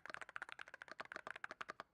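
Typing on a $200 Hall Effect keyboard: a steady flurry of crisp, close keystrokes with a clear, slightly deeper clack, heard alone without speech.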